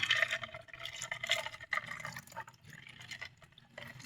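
Water trickles and gurgles into a container up close, a bubbling, uneven stream that rises and falls without any talking.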